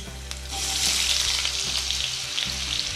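Potatoes fry lightly in about five tablespoons of hot oil in a pan on a stove, a steady close hiss and sizzle with a low hum beneath and no voices.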